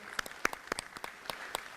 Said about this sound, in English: Let's give a lusty round of applause to